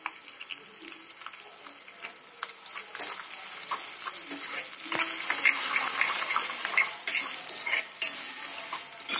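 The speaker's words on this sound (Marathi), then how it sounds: "तेल खूप गरम झालं ना. आता हे चांगलं भाजून घेते." Vegetables frying in very hot oil in a pan, a steady crackling sizzle that grows busier, with occasional clinks of a utensil.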